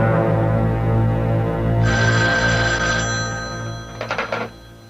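An old-fashioned office telephone bell rings loudly and insistently in a long sustained trill, then stops, with a brief rattling burst of ringing near the end.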